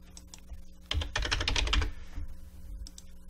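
A burst of rapid keyboard clicks from someone typing a command on a computer keyboard during Houdini software work, close up and clear with a low room hum beneath.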